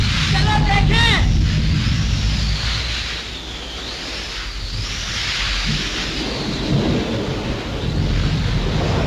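A thunderstorm in a 1937 Hindi film scene, with a loud rumbling thunderclap at the start followed by steady rain and wind noise throughout, and a faint high voice or tone drifting beneath.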